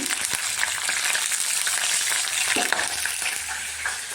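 Loud, continuous sizzle and spatter of water hitting hot oil in a tempering pan with mustard seeds, cumin, chana dal, urad dal, fenugreek, curry leaves and dried red chillies, crackling steadily with sharp pops throughout.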